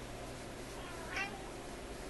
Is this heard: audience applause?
no